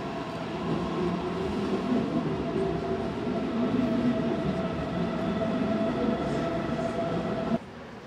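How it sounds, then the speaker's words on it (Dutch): A non-stop train runs through München-Ost station, a loud, sustained rolling roar with a faint wheel whine, holding steady for over seven seconds before cutting off abruptly. "En er komt weer een trein doorgereden die in München-Oost niet gaat stoppen"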